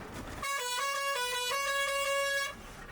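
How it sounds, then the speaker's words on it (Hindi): A truck's pressure horn blasts on a mountain road in India, one loud sustained multi-tone honk lasting about two seconds with a slight pitch shift midway, close and dominant over faint background. "They also use pressure horns"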